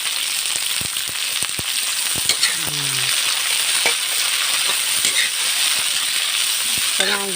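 Water spinach (kangkong) sautéing in a hot pan for a simple home-style gisado, giving a steady loud sizzle throughout with occasional light clinks and stirring taps of a utensil against the pan.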